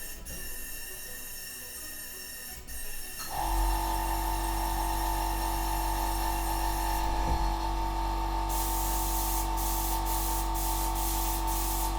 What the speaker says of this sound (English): my airbrush is actually not cleaned at all